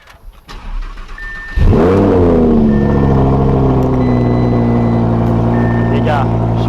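An Audi R8 supercar engine cranks and fires at close range, then settles into a loud, steady, deep rumble that holds strongly for several seconds with a slight rev.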